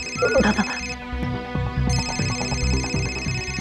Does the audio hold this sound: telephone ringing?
yes